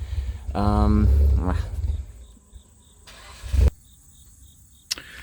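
A cammed Mitsubishi Evo with a modified exhaust revs loudly up close, then settles into a rough, noisy idle with a few sharp pops and bangs from the exhaust.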